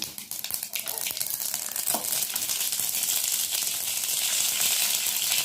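Half a teaspoon of mustard seeds splutter in hot coconut oil, crackling in sharp pops at first and then settling into a steady, loud sizzle.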